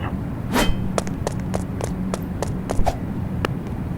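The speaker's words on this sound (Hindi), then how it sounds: "चलो ये खिड़की तो टूट गया" In the Roblox video game, a window is smashed with an iron: a quick series of about eight sharp, cracking impacts spaced irregularly over a dense, steady game background, with no voices.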